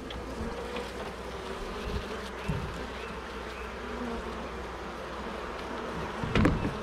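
Honey bees buzz around an open hive, a dense, steady drone close by that continues throughout, with a few brief handling knocks and no voices.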